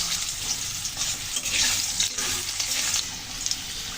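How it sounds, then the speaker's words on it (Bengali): Potatoes and vegetables fry in hot oil in a wok, giving a loud, continuous close-up sizzle with bursts of crackling and stirring. "দিয়েছি আলুগুলো, তরকারিগুলো আগে ভেজে নেব।"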